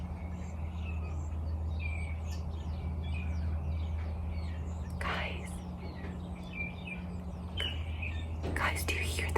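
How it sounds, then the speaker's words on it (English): Songbirds chirp and trill faintly in the background over a steady low hum, with a soft whispering voice throughout. "Do you guys hear the birds?"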